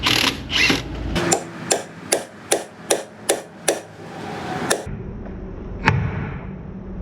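Hammer blows knocking apart the upper ball joint on a car in a repair shop: about nine sharp metallic strikes in a steady rhythm, close and loud, followed by quieter shop noise and a final clank.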